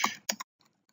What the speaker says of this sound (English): I'm just going to type in some gibberish.